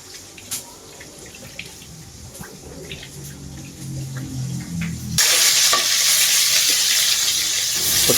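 Ingredients sauté in a pan for a shrimp and pechay dish, a soft sizzle with stirring and clinks, then a loud rush of running tap water as shrimp are washed nearby.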